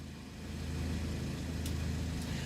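A 2022 Iveco Daily 70C21 bus running steadily, its low engine drone and mid-range hum constant and fairly close, with no talk over it.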